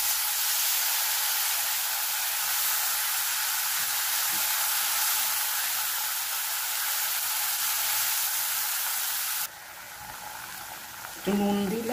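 Onion, ginger, garlic and green chilli paste hits hot oil with cumin in a pan, giving a steady loud sizzle and hiss that drops in intensity near the end as a voice briefly speaks.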